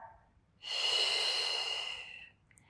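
A single long, breathy exhale during a gentle Pilates mat exercise, close and fairly quiet, lasting about a second and a half between stretches of near silence.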